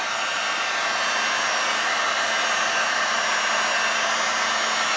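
A heat gun blows steadily on an acrylic pour painting, giving a loud, continuous close-up whoosh of hot air with no break and no voices.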